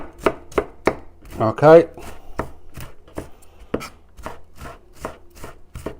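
Sharp knife chopping food on a board for a tomato pasta sauce, a series of crisp, evenly spaced thuds close by, with a brief word spoken partway.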